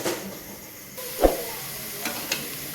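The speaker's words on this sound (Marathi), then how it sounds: "कांद्यामध्ये थोडंसं तेल टाकून भाजून घ्यायचे कांदा।" Sliced onions fry with a little oil on a hot tawa, a faint steady hiss broken by a few sharp clicks and spatters.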